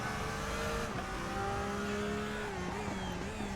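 A Porsche GT3 race car in the RaceRoom racing game revs hard and steadily, its engine note climbing and dipping through gear changes, loud and continuous with no talking.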